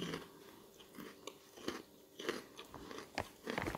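Someone bites into large braided amplang fish crackers from Madura, with several close, crisp crunches and chewing at irregular intervals.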